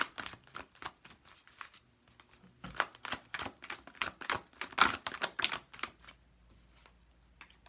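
Tarot cards riffle and slap together in quick repeated bursts, close and crisp, a steady shuffling rhythm that fades out near the end.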